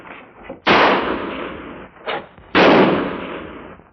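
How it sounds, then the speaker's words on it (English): Two sharp, loud gunshot cracks about two seconds apart, each decaying in a long echoing tail, preceded by fainter thuds. "gunfire"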